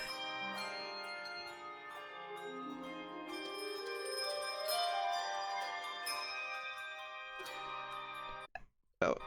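A song rings out on giant bells, sustained tones layering into a bright resonant wash with a melody that climbs slowly, continuing for several seconds before an abrupt break near the end.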